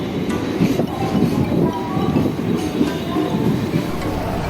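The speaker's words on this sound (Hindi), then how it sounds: "तो अभी ट्रेन आ गई है, अभी ट्रेन में बैठता हूँ" A train arrives and runs along the rails with a steady, close, low rumble and faint clickety-clack of wheels throughout, with no voices.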